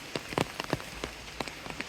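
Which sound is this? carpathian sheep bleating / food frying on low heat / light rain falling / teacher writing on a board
light rain falling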